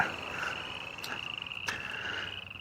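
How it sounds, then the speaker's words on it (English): Spring peeper frogs call from a small wetland, a chorus of high piping peeps holding steady with a few louder nearby calls standing out, heard at moderate distance with no talking. "The peepers are out here. Lots of them. Out in that little wet area, little baby frogs everywhere."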